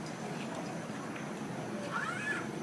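A cat meows once, a short rising-falling call near the end, fairly close and moderately loud over a low room background.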